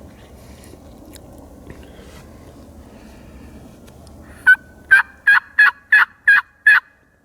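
Wild turkey gobbler on the Nebraska public-land prairie: a rapid run of about seven sharp gobbling pulses, fairly loud and clear against quiet open-air background rumble.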